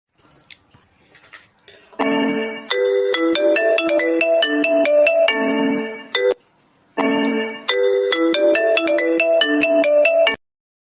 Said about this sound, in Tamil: அம்மா ஃபோன் அடிக்காங்க